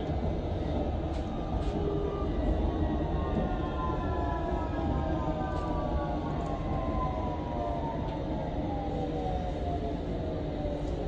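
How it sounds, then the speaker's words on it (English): A Peterborough train passes on the line near King's Cross, a steady loud rumble with long gliding tonal whines descending over about eleven seconds, with no talking. "Hello Peterborough train, goodbye Peterborough train"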